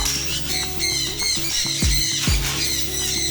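Several birds squawk over and over in harsh, overlapping calls that run throughout, close and fairly loud above a low steady hum.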